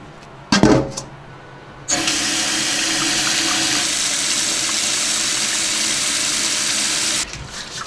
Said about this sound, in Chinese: 我们把猪蹄洗一下哈。